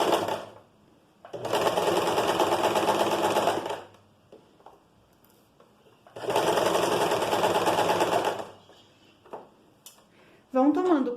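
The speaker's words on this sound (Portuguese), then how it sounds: "agulha baixada, subo o calcador, giro, costura a 1 centímetro de distância." A sewing machine stitches a seam on a pleated skirt in two loud, rapid runs of about two to three seconds each. Quiet pauses with faint handling noises separate the runs, and someone speaks briefly in between.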